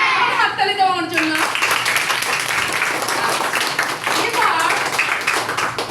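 A class of young children claps together in a primary school lesson, a loud, dense burst of many small hands that follows a teacher's voice and keeps going steadily afterward.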